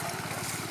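A motor-driven water pump runs at the far end of a rice field, a steady pulsing engine drone with a rapid rhythmic low throb under a broad windy hiss, continuous and fairly loud.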